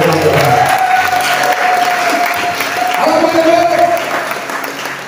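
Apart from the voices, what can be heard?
congregation applause and acclamations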